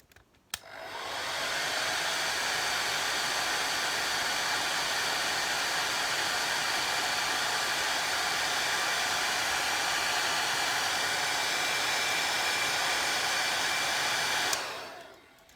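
A hair dryer drying watercolour paint switches on, blows with a steady, even roar for about fourteen seconds, then cuts off abruptly, close and alone.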